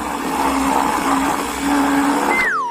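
An electric blender whirs steadily and loudly while mixing ice cream and smelly cheese, then cuts off as a sliding tone sweeps in at the end.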